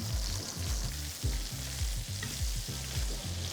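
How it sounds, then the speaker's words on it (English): Petrale sole sizzling in a pan as it is basted with butter, a steady loud fry with rhythmic low scraping or spooning pulses repeating throughout. "I can see the butter's inside that section up there and it's cooking the fish"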